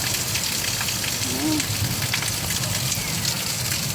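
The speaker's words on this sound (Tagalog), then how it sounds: "Sobrang lakas ng ulan." Dense, steady rainfall from a storm in Mysore, India pours down in a continuous hiss and patter, with a faint voice briefly audible beneath the downpour.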